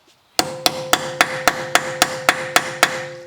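A screwdriver is hammered to free the screw holding the brake disc on a VW Tiguan. Eleven loud, ringing metallic strikes come close up in an even, rapid rhythm about a quarter-second apart, each followed by a short metallic ring.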